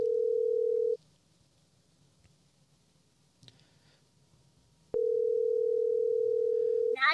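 A phone call rings out through a Zoom PodTrak P8 podcast recorder: two loud, steady ringback tones, each about a second long, with a quiet gap between them, a faint click, and a brief burst of noise at the end.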